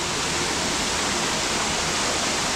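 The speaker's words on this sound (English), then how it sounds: "Busted pipe leak in here. That's wasting water." Water gushing from a busted, leaking pipe along a jungle creek in Bali, a loud, constant hissing rush close by with no break or voices.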